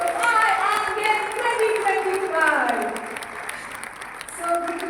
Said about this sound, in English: with a big round of applause, welcome to the second momentous edition of I Am Game